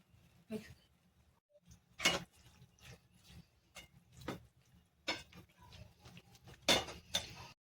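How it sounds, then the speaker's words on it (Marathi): A spoon scrapes and clinks against a pan while gajar ka halwa (carrot halwa) with milk is stirred: sharp, irregular metallic taps and scrapes spaced a second or so apart over a quiet background. "तर इथं आम्हाला याला छान प्रकारे ढवळून घ्यायचं आहे"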